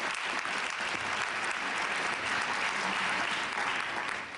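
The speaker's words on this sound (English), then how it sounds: "So let's applaud them all." A large audience applauds Republican candidates at a primary night speech, steady loud clapping that fills the room without pause.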